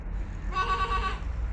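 A small child of three to five imitates a goat with one short, wavering bleat, close and soft, alone in a quiet room.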